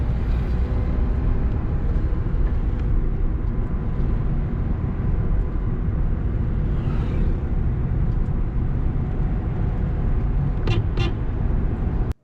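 A car cruising at about 60 km/h on a road during a beginner braking lesson, with a steady, loud broadband engine and road roar throughout and a couple of brief higher tones near the end.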